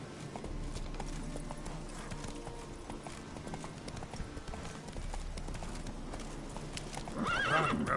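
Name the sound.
horse Roach galloping, video game The Witcher 3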